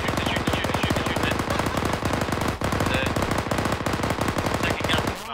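Sustained automatic gunfire in the military shooter game Arma 3, a rapid, loud, unbroken stream of shots firing close by for several seconds, with a brief dip midway.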